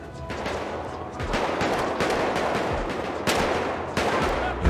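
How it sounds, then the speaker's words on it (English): Dense gunfire from the video game GTA 5, a continuous barrage of overlapping shots and bursts from several directions, loud and close with no pause. "Man, they're shooting from everywhere."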